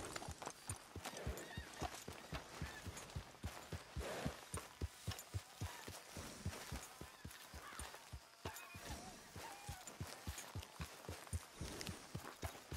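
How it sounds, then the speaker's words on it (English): Rapid clip-clop of horse hooves walking on a hard surface in Red Dead Redemption 2, steady and close, with faint ambient noise and a brief whinny. "Arthur, get that horse out of here."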